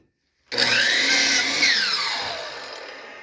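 A power saw cuts through lumber for pallets, starting abruptly and whining steadily and loudly as the blade works through the wood, the pitch shifting slightly under load.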